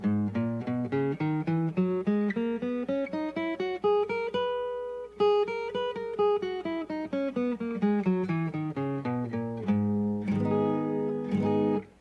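A guitar plays the Aeolian mode, the natural minor scale, one clear plucked note at a time, climbing steadily and then descending, with a few fuller notes ringing together at the end.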